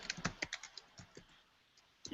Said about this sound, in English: I can hear him typing.